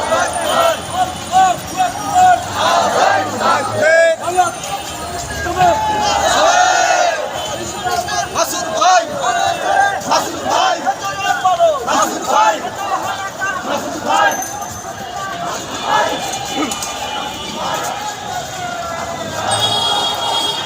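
A large Jamaat-e-Islami rally procession moving through Dhaka, with a loud crowd chanting and shouting in rhythmic waves, a constant roar of many voices around a nearby person who talks over it.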